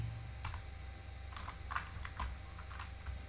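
C code typed on a computer keyboard, scattered soft key clicks in small clusters with pauses between them over a quiet room hum.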